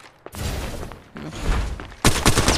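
Gunfire in the mobile shooter Apex Legends Mobile comes as loud, close bursts of rapid shots, with short gaps between volleys and a heavier burst at the end.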